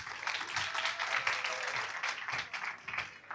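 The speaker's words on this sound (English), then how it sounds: "Can we clap for her?" Applause from an audience at a summit session after a talk on alcohol policy, a steady wash of many hands clapping at moderate distance, fairly quiet and sustained.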